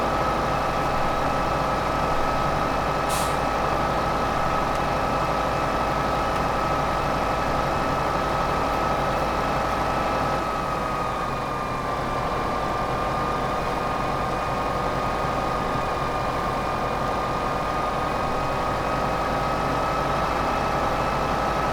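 Tractor engine in Farming Simulator 2015, pulling a vibrating trailer with warning beacons on, drones steadily at close range, a constant low rumble with a faint whine above it that dips briefly midway.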